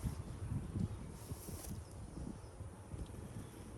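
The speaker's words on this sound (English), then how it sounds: "quite a few bees in there." Honey bees hum in an opened hive at a cow pasture apiary, a low, steady buzzing close by with some wind noise across the microphone.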